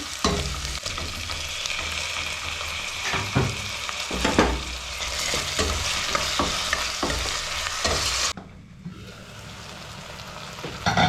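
Chopped tomatoes are added to cooked onions in a pan for Uttara Karnataka mandakki usli, sizzling and frying steadily while a spoon stirs with repeated scraping clinks, then briefly quieter before the sizzle resumes.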